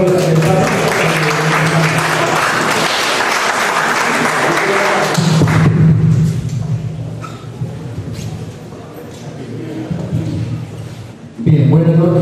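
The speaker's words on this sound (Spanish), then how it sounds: "Un aplauso para el doctor." Audience applause at a national ufology conference in Ica, Peru rises as dense clapping for several seconds, fades to scattered claps and murmurs, then swells again, with a voice over the PA at the start and end.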